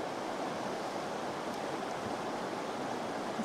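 Hot spring water at Grand Prismatic Spring in Yellowstone overflows into a river, a steady, even rush of flowing water, close and unbroken.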